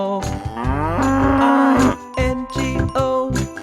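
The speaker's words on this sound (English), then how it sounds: "a cow says moo" A cow moos in a long, loud, drawn-out call, followed by shorter tonal bursts with bright jingling, set against a children's farm-animal nursery singalong.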